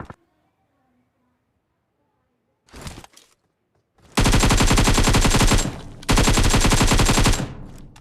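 Rapid automatic gunfire rings out in BGMI (Battlegrounds Mobile India), two long, loud, close bursts of machine-gun fire after a brief short shot and a quiet stretch.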